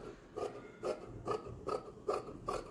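Scissors snip off the extra cloth from a scrap-fabric quilt with a goat design, making six even, close, quiet rasping cuts at a regular rhythm, with no talk.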